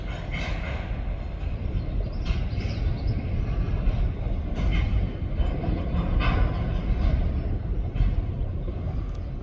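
A long freight train of about 70 rail cars rumbles past continuously, a loud steady roar with rhythmic clacks of wheels over the rails.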